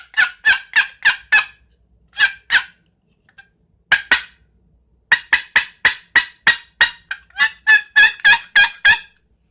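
A handheld turkey call worked with both hands to make clucks, loud close sharp yelping notes in quick bursts separated by short pauses, with no talking.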